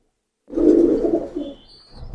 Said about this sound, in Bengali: প্রিয় দর্শক এটা ডাবওয়ালা কবুতর আমরা দেখছি একটা মাদি কবুতর